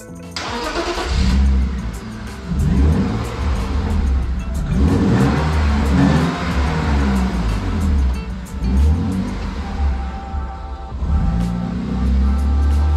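A car engine revs repeatedly, rising and falling in loud, throaty surges close by, with short dips between each push of the throttle.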